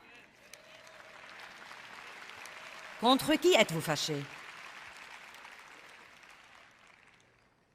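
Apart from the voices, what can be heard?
audience applause in a church assembly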